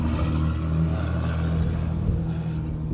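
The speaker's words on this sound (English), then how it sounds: "Everyone's into the diesels here with the super loud exhaust." A loud, rumbling diesel truck with a loud exhaust drones steadily nearby as it passes, deep and throaty, with no break in the noise.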